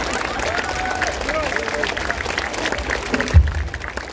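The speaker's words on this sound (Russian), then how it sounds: "Ваши аплодисменты." Audience applause at a tribute concert for a singer, a steady wash of clapping with crowd murmur and a faint musical tone underneath, ending in a brief louder thump.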